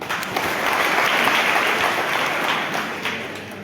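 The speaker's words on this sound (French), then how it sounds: "Il faut l'acclamer s'il vous plaît" A crowd at a political rally in Côte d'Ivoire breaks into loud, sustained applause and cheering for a speaker, a dense wash of clapping with no lull.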